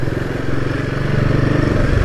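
Royal Enfield Guerrilla 450 motorcycle rolling slowly, its engine giving a steady low throbbing putter that rises slightly in loudness toward the end, heard alone without talk.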